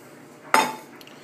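Spoon stirring sausage into a Cajun seafood stew in a pot, heard as a single brief clink against the pot followed by a soft scrape, close and quiet.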